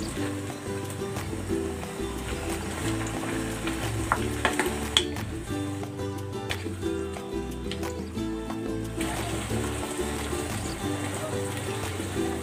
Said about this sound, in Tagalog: Yan, kumukulo na. Ilalagay ko na dito yung saging.